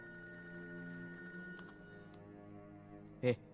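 A telephone rings with an incoming call, a sustained electronic ringing tone held through the moment in a quiet room, ending with a brief louder knock or clunk.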